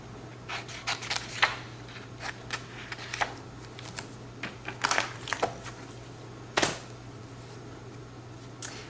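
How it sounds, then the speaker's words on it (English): Scissors snipping through grid paper for a stamped treat-box craft, a series of short crisp cuts in irregular bursts against a quiet room hum, with one louder snip near the end. "you can just cut the grid line to make it perfectly straight"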